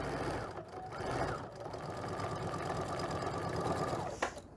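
Sewing machine stitching a seam on a table runner, a fast steady mechanical whirr running nearly continuously, close and fairly quiet, ending with a brief clack.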